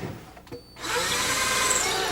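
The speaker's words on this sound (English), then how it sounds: "Drill through the cabinet and tighten the connecting screws." A power drill bores through an IKEA kitchen cabinet, starting after a short pause with a few clicks, then running in a steady, close, loud whine.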